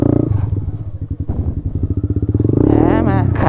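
A dirt-style motorcycle ridden off-road thumps out a rapid pulsing exhaust beat up close, then revs harder and louder toward the end.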